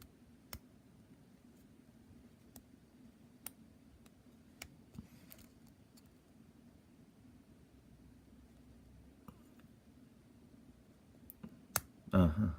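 An ABUS Inox T84MB padlock being picked gives sparse, faint metallic clicks from its pins against a quiet background, ending in a louder cluster of handling noise.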